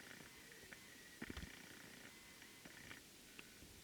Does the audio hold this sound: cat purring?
yes